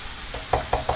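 Chopped onion, green chilli and curry leaves sauté in a pan for an egg masala, with a soft sizzle and three quick stirring scrapes close by.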